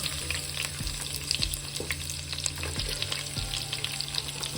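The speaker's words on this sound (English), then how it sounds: "I am going to saute this, turn it down so that the butter don't burn" Onions sautéing in oil and melted butter in a pot, a steady close sizzling hiss that runs throughout, with a few soft taps of a utensil against the pot.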